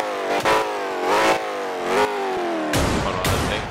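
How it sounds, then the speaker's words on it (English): A car engine in a Roblox game revs up in repeated bursts, rising and falling several times, loud and close with a mechanical, synthetic game-like tone. "First thing I was told to rev the engine."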